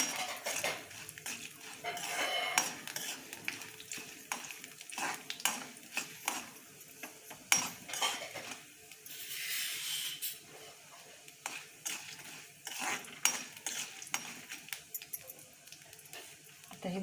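Dal and spices stirred and roasted in a pan until reddish for bottle gourd peel chutney, heard as frequent metallic spoon scrapes and clinks against the pan at an uneven pace, close and moderately quiet, with no talk.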